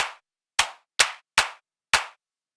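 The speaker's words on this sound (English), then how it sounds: "Clap on the 4 on the floor, I think" Clap sample from an Ableton drum build-up, five sharp, dry hits with quick decays, evenly spaced apart from one tighter gap, isolated against silence.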